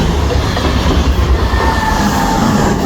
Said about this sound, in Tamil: ரயில் போகுது.